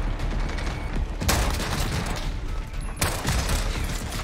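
Dense, loud gunfire in the video game Call of Duty Modern Warfare, with an AK-47 in play: continuous rapid shots and bursts with two sharp heavier blasts standing out, no talking.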